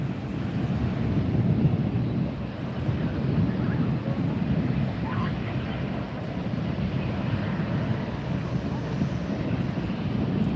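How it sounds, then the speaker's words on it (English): Jet airliners departing Los Angeles International Airport over the Pacific Ocean, heard as a steady, broad low rumble of engine roar mixed with wind noise, continuous and fairly loud throughout without talk. "These jets are headed out right now over the Pacific Ocean."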